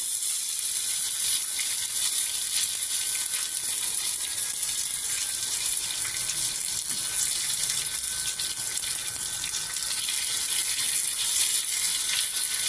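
Curry leaves dropped into hot oil for a rasam tempering give a steady, bright crackling sizzle, close and continuous throughout without pause.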